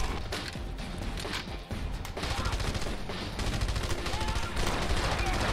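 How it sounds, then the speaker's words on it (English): Shotgun gunfire in the video game Red Faction Guerrilla: dense, loud blasts and crashing impacts pile up nearly nonstop in a chaotic firefight. No one speaks. "Ah, it's a shotgun. That's not good."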